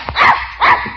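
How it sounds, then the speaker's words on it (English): A dog in an old radio show barks twice, close and loud, with sharp evenly spaced barks and no voices in between. "to keep Leroy's dog out of his chair"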